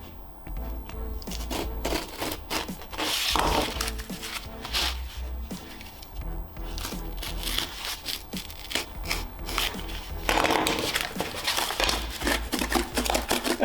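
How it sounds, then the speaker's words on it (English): A knife blade saws and scrapes through a tough piece of cardboard, a dense rasping, rubbing noise that carries on steadily at close range with a few louder surges and no talk. "That's a tough piece of cardboard. Or a junk blade on that knife"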